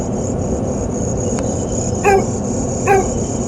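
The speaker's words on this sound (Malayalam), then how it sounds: "ഒരു നായ." A dog near an old, large hospital building outdoors gives two short barks about a second apart, not close by, over a steady high chirring of insects.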